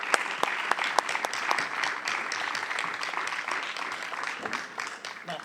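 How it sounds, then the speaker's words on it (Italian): A crowd at an outdoor community event applauds, with dense, lively clapping and a few sharper individual claps that ease off slightly toward the end. "io direi di farsi tutti un grande applauso"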